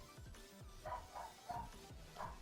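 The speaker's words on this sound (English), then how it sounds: "Barrett's barking" A dog named Barrett barks several times in short spaced bursts, fairly close, with faint background noise in a home setting.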